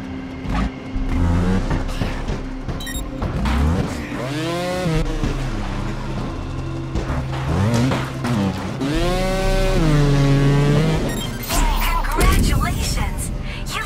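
A motorbike engine in the Trials Fusion video game revs and drops repeatedly as the rider tackles obstacles, a loud buzzing whine rising and falling under a spoken voice.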